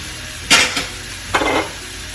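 Tomatoes and ampalaya (bitter gourd) dropped into a pan of frying corned beef, two short bursts of sizzle and clatter over a steady background hiss.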